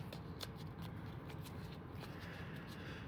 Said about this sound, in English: So I'm going to just do a quick shuffle